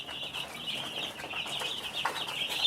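A dense flock of chickens on a poultry farm in Cameroon, many birds clucking and chattering together at close range in a continuous busy murmur.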